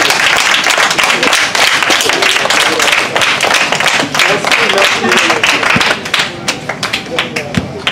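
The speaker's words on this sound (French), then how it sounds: "Tous vos applaudissements, tous vos acclamations." Loud audience applause with dense, busy clapping and voices mixed in, thinning toward the end into a few scattered claps.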